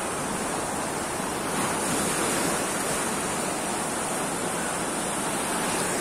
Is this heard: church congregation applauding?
no